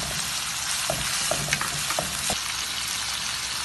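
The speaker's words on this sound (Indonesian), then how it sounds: "Jadi kita masukkan cili kering, kita goreng di." Dried chilies fry in a hot pan with cooked chicken, giving a steady broadband sizzle with a few sharp pops and crackles as they are stirred, close and continuous throughout.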